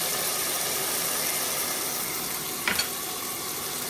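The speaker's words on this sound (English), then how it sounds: "You have to keep stirring it because you don't want it to burn" Maple-infused New England chili being stirred in a pot, giving a steady close sizzle and soft scraping with one brief louder clink near the end, no talking.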